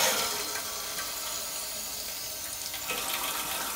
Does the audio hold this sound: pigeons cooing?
no